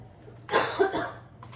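A single close cough, a couple of harsh bursts in quick succession, followed by a faint short breath in a quiet room.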